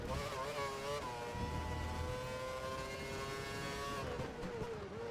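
A Formula 1 race car engine in F1 2012 screams at high revs, with its pitch gliding and shifting as the car races through the final laps of a championship race, loud and continuous with no talk.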